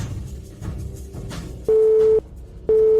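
A telephone busy signal sounds for a dialed number that cannot be reached: two loud, steady electronic tones with a short gap between them, preceded by faint line noise and muffled background sound.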